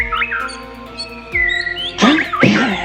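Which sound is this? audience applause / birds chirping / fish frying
birds chirping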